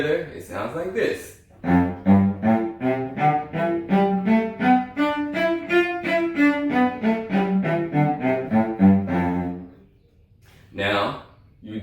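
An instrument plays a scale in third position as a steady run of clear, evenly spaced notes climbing and descending, with brief talking before and after.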